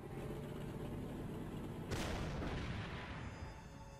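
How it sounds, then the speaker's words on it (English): Artillery guns fire in the turn-based war game Allied Corps, a dense, steady roar of game audio with one broad boom about midway that decays into a continuing rumble, no talking over it. "The artillery guns, it is."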